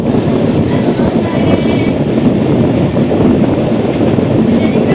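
Indian Railways Kanyakumari Express running on a curve near Puthalapattu, giving a steady, loud rumble of wheels and carriages that fills the whole stretch without pause.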